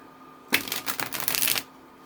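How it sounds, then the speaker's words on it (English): A deck of cards is riffle-shuffled up close, producing one dense, crisp, fluttering burst of about a second that stands alone in a quiet room. "If you're not interested in watching the shuffle, you can skip the shuffle down below."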